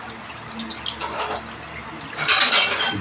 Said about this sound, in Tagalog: Nag-drain nga. Ayan o. Lumalabas yung tubig niya dyan o.